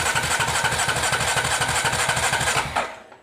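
Starter cranking a Honda TRX350 Rancher ATV engine with a no-spark fault: a steady, rapid, loud churning rhythm near at hand, running continuously before cutting off abruptly near the end.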